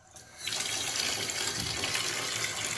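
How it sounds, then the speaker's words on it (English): Water gushes from a tap into a bucket for washing fleece, starting with a soft trickle and then turning into a steady, loud, broadband rush that fills the rest of the clip with no talk over it. "we're going to start adding some water to our bucket"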